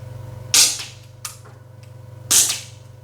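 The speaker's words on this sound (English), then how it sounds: "I'll shoot a couple down just so you guys can sort of see" Two sharp pops from a HWASAN double barrel gel blaster shotgun, spaced about two seconds apart, each with a short bright crack over a steady low mechanical hum.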